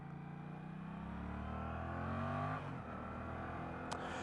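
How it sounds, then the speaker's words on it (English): A motorcycle engine revs hard right beside a car in traffic, a steady loud drone that climbs in pitch and then drops away, alone with no talking. "I rev bombed him when I was next to him"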